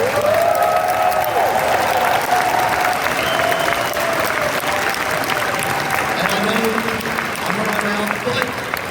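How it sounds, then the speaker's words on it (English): Audience at the Anthrocon 2024 closing ceremonies applauds steadily in a large hall, the clapping continuous and full, with a voice and some tonal sounds rising over it partway through. "Let's give one round of applause for all these guys here"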